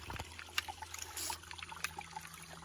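Filtered water dribbles from a backpacking water filter into a container, a quiet, irregular trickle with small splashes and drips close by.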